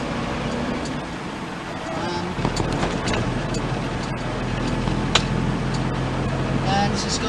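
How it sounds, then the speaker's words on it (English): A 1962 Vauxhall FB Victor with a 1509 engine drives along, its low engine hum and road rumble steady from inside the cabin, while someone talks over it throughout. "this is my 1962 Vauxhall FB Victor."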